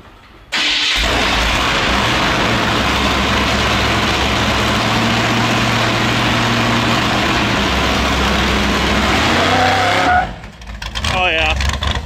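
A car engine revs hard and holds high for about ten seconds during burnout practice, loud and close, then drops away abruptly with brief voices afterward.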